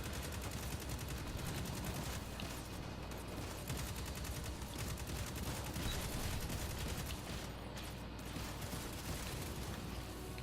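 Dense, continuous gunfire from the Destiny 2 video game, a loud unbroken barrage of rapid shots that fills the whole stretch with no speech.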